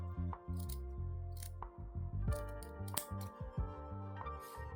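Sewing snips cut through fabric in a few short, crisp clicks over steady background music.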